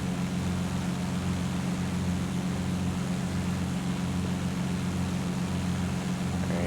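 A Bonanza V35 propeller engine in the X-Plane 10 flight simulator drones steadily and loudly, a constant low hum with a faint pulsing beat, no voices.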